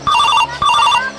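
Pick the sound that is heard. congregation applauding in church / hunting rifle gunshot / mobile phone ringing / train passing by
mobile phone ringing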